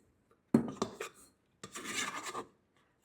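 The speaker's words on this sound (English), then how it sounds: "I love this scraper. See how you can just get the last of the dough out?" A plastic dough scraper drags soft bread dough out of a stand mixer bowl, in two close scraping strokes separated by a brief pause.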